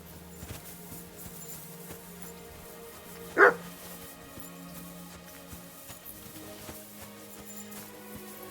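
A single dog bark from Kingdom Come Deliverance 2 pops up at a distance against a quiet game ambience of low hum and faint background noise.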